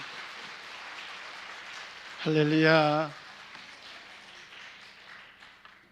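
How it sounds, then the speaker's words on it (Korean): A church congregation claps steadily to welcome a pastor, a soft patter of many hands, briefly overlaid by a voice calling out mid-way. "나오실 때 우리 박수로 환영하겠습니다"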